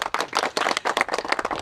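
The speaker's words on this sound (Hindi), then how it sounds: "कम से कम इस बात के लिए इनको ताली तो ज़रूर बनता है" A small crowd of people gathered outdoors by a large pond claps in applause, a brisk, fairly close burst of uneven hand claps without pause.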